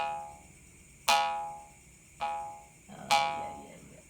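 Played up close, a traditional Borneo kuriding jaw harp twangs its high tone in three plucks, the middle one softer, each a buzzy, overtone-rich ring that trails off quickly.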